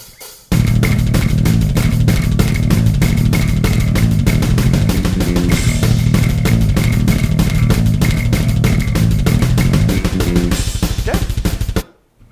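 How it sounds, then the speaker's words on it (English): A metal tune, an opening riff on bass with rapid 16th-note galloping at 192 beats per minute, loud, dense and relentless from start to an abrupt stop near the end. "one of the opening riffs from the tune where you get to hear some really quick 16th note galloping"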